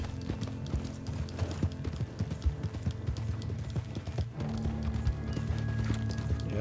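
A horse in the Western video game Red Dead Redemption, stuck in an alley, gives off a steady run of close clip-clopping hoofbeats on hard ground. The hoofbeats continue throughout under a low musical drone.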